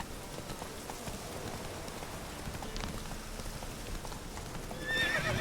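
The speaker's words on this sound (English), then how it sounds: "Guess now we're going to find a horse." In the Witcher 3 game world, a horse's hooves clip-clop steadily against a hiss of rain, with a neigh breaking out near the end of the stretch.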